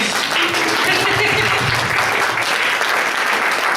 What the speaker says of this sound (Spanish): levántate, que te aplaudamos